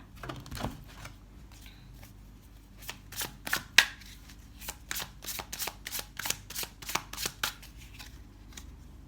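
A deck of tarot cards is shuffled close up in a quiet room, a run of quick papery riffles and snaps coming in an uneven burst-like rhythm, soft overall with no voices.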